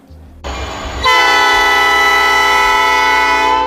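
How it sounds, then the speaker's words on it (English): A train rolls through south suburban Dalton, its rumble building before a loud, sustained horn blast takes over and holds steady, close and dominant. "Usually the trains are the loudest noise in South suburban Dalton"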